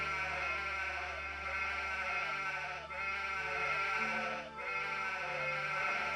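Sheep in an Anno city-building game bleat loudly and continuously, several overlapping wavering calls forming a dense, nasal chorus with brief dips, no talking.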